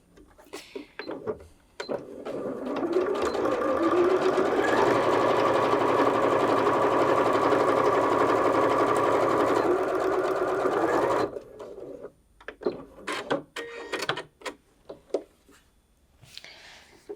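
A Bernette B38 sewing machine stitches through four layers of folded 10-ounce denim, a loud, fast, continuous mechanical whirr lasting several seconds, framed by quieter handling clicks before and after.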